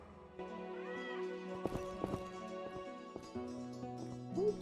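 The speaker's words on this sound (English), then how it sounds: "I think it's just a random cat running around, though." In The Witcher, a cat meows faintly a couple of times, short rising mews at the start and end, amid game music and soft background sounds.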